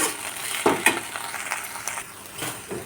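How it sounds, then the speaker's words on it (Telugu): Mint leaves frying in a pan for chutney, a steady soft crackle and sizzle with a few stirring scrapes and clinks of a spoon against the pan, close and moderately loud. "పుదీనా ఇలా వేగుతున్నప్పుడు అందులో వాటర్ ఫామ్ అవుతుంది"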